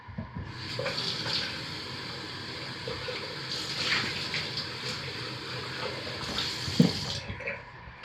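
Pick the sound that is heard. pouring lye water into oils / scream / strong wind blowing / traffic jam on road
pouring lye water into oils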